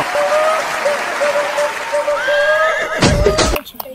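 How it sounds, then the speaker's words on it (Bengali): An audience at a comedy stage meetup gives a burst of applause that runs under tonal whistle-like sounds and a voice, ending in a few sharp claps. "একটা জোর করে হাততালি বাবুর জন্য"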